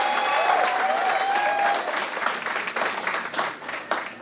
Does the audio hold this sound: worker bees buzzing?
no